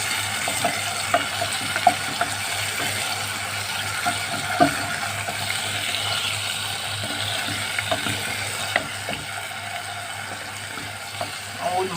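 Garlic frying in oil in a pot for koshari sauce, a steady soft sizzle with light scattered clicks and stirring scrapes, fairly quiet, with no clear talking.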